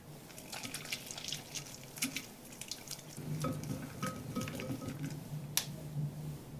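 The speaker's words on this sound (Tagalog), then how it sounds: "Magbuhos din tayo ng konting tubig." Water trickles and pours faintly into a thick batter of egg and salt, with soft wet squishing and occasional drips, quiet and close.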